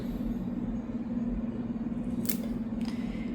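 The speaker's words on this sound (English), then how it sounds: "I'm going to go ahead and cut it there." Aglaonema plant stem is snipped with two quick, crisp cuts near the end, heard over a steady low hum of background noise.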